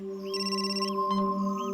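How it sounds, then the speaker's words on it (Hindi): A phone rings in a police crime drama scene with a steady electronic ringtone of layered sustained tones and brief chirps, fairly quiet and heard alone. "सर दया सर का फोन।"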